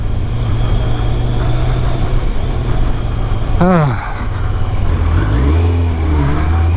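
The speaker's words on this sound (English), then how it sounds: "Oh, the sound of that engine." Steady engine rumble from a Kawasaki ZZR 1100 motorcycle on the move, loud and close, with a brief sweeping whine midway and a short exclamation from a rider.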